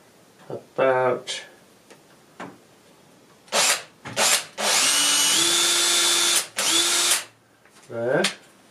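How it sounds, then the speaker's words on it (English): Power drill boring eye holes while making a Borissian alert, heard in several short bursts and one long sustained whine, with brief talk between runs. "So I think for this, we'll use a drill"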